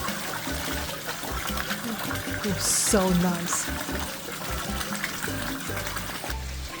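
Cold water pours steadily through the holes of a simple bucket shower at a hot springs at Caballo Lake State Park, a soft splashing and trickling under a voice speaking briefly.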